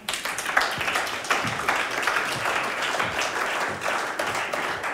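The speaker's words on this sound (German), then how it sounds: "Deshalb begrüßt mit einem Applaus auf der Bühne Gabriele." Warm audience applause welcomes a guest onto the stage at a faith event, a continuous bed of clapping with a few louder hand claps near the front, holding steady throughout.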